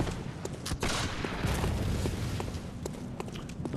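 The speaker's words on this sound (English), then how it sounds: "see that guy start shooting." Enemy gunfire in the game Bloodborne: a burst of rapid shots and booms in close succession, with faint footsteps mixed in, fairly loud and with no talking.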